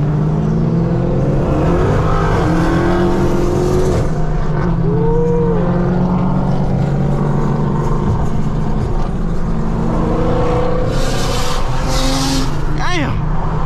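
A car engine revving in Miami rush-hour traffic, loud and continuous with rising and falling tones and a brief tire squeal near the end, alongside voices talking and shouting.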